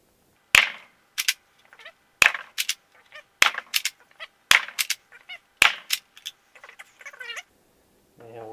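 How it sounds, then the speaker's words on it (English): Nerf Rival Kronos blaster in stock form firing genuine foam balls, five sharp close snapping shots about a second apart, each followed by mechanical clicks and rattles of priming, with a brief squeaky noise at the end. "this is the rival Kronos test in stock standard form with genuine rounds"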